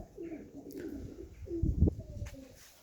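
Dutch tumbler pigeons cooing nearby, soft throaty coos repeated a few times, with a brief flutter-like burst in the middle and light background noise.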